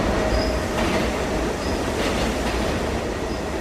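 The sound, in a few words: New York subway train sound effect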